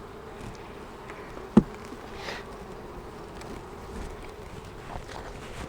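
Honey bees from an opened hive give a soft, steady buzzing drone, with one brief knock partway through and no talk.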